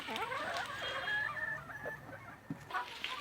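A black country hen clucks and calls nearby in a short burst of warbling, rising notes, with quiet background noise.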